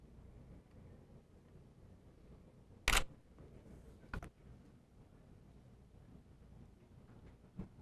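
A single-lens reflex camera shutter fires during a strobe-lit portrait shoot, one sharp loud click followed about a second later by a softer second click, then a faint tick near the end, in a quiet room.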